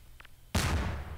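In the video game Garry's Mod, a sudden loud boom bursts in after a brief faint chirp, followed by a sustained rumbling, crackling roar that lingers close and heavy.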